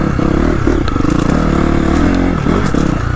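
A 2025 KTM 350XCF Factory Edition dirt bike engine runs steadily at close range on a cold ride, a loud continuous buzzing drone with slight rises and dips in revs throughout.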